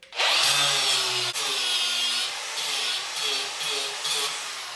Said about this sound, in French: Ça, par contre, c'est du mastic. Alors, ça, faut que je meule.